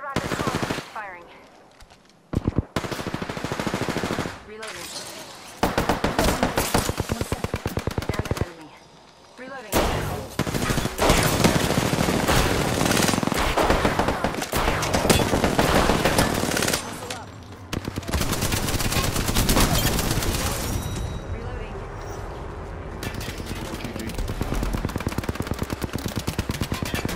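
Rapid bursts of automatic gunfire in the battle royale game Apex Legends, loud and nearly continuous, with short pauses between volleys and voices talking over parts of it.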